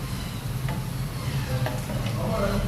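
Steady crackling sizzle of paneer frying golden brown in hot oil, with a few faint clicks and a low hum underneath.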